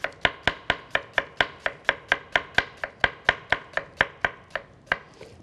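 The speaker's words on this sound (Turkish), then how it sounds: "Şu şekilde soğanımızı doğramaya." A knife chops an onion on a cutting board in a fast, even run of about twenty sharp close taps, with no talking.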